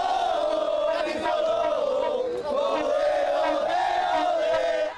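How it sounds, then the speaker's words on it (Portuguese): Paysandu football fans cheer and celebrate as a dense crowd, chanting and shouting together in a loud, sustained roar with a steady sung tone. "Do outro lado, os torcedores do Papão faziam a festa."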